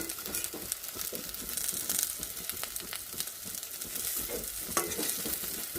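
Pieces of bitter gourd, okra and potato frying together in a pan, a steady low sizzle near the mic with light irregular scraping and crackling from stirring, fairly quiet and without talk.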